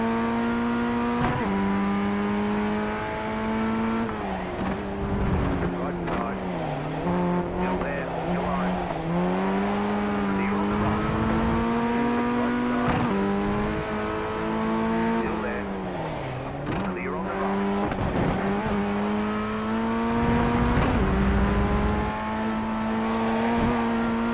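A race car's engine pulls hard in first gear on track, revs climbing and dipping in repeated surges with tire squeal, loud and close throughout.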